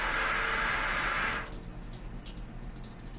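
Water rushes through a washing machine's inlet valve on a Kenmore or LG washer, a loud steady hiss of filling water that cuts off after about a second and a half, leaving quieter clicks and residual trickling.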